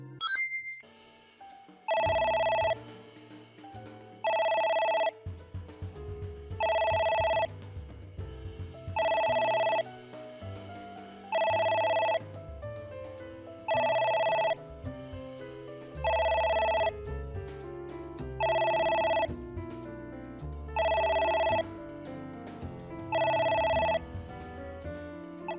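A telephone rings in the video game AI The Somnium Files, repeating about a dozen bright electronic rings at an even rhythm over a soft musical background, with no voices.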